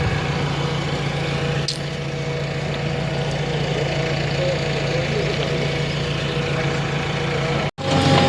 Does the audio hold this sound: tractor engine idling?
yes